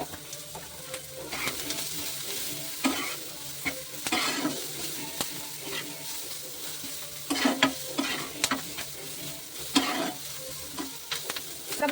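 Veg Manchurian frying in a pan, the sauté sizzling steadily close up while a spatula scrapes and stirs in irregular bursts, some louder clatters toward the end, with no talking.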